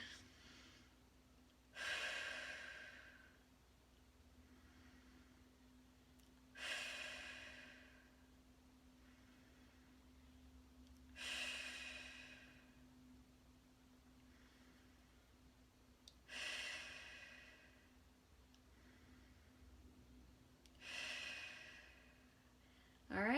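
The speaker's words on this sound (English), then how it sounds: "take some deep breaths" Five slow, deep breaths are drawn and released during a self-massage of the neck, shoulders and back. Each breath is a soft, close, airy rush of several seconds, with quiet pauses between, over a faint steady hum.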